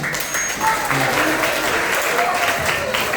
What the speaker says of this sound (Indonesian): Kita beri tepuk tangan untuk Nathanael.